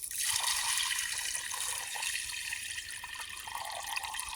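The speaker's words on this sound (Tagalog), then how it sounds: "At lalagyan natin ng maraming tubig." A large amount of water pours into a pot for a mung bean stew, a steady, bright splashing stream heard close and continuous throughout, with no talking.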